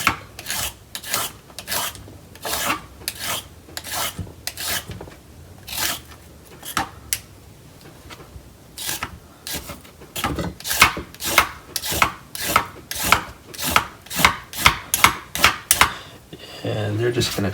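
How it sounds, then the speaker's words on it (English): Carrots being peeled with a peeler for glazed carrots, giving a steady run of close, sharp rasping strokes that quicken toward the end, with no talk over them. "Just gonna peel some of these."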